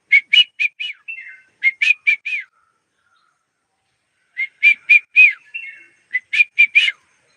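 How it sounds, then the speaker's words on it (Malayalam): Birds call in a garden plantation: two bursts of clear, whistled phrases, each a quick run of sharp chirping notes separated by a silent pause, close and distinct with no other sound. "എന്താ പക്ഷി വന്നിട്ട് സംവദിക്കുന്ന കേട്ടോ"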